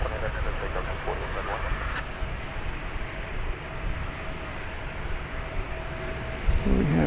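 A US Air airliner at DFW Airport rumbles steadily at a distance, a continuous low engine roar that lasts throughout, with people talking over it.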